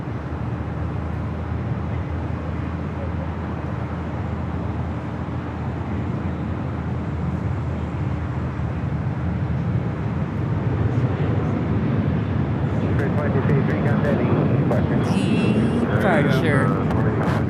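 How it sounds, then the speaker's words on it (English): A Southwest Airlines airliner departs LAX, its steady, loud jet roar rumbling low and broad throughout, swelling slightly toward the end as it climbs away. "Nice and early departure. That's Southwest Airlines flight 3529 heading"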